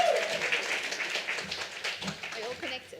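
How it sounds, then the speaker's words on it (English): Applause at a Women in Tech meetup in Johannesburg, a steady wash of clapping from the audience that fades slightly as a voice begins speaking over it toward the end. "please give a loud and generous round of applause for Leora Hessen"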